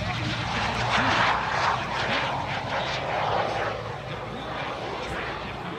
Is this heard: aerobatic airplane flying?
yes